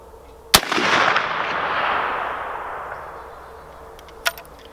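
An 1874 Sharps rifle fires a single sharp, loud shot at a 200-yard target, followed by a long rolling echo that fades over several seconds, then a faint distant crack near the end.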